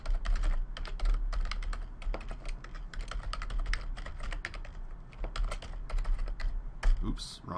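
Someone types a password on a computer keyboard, a close run of quick, uneven key clicks and taps that goes on steadily throughout.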